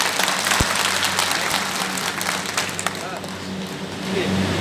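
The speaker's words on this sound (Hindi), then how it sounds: "सबकी तालियां एक बार बजनी चाहिए" An audience at a Congress party divisional meeting in Dumka claps in a sustained, dense round of applause that carries steadily through to the end, with some voices mixed in.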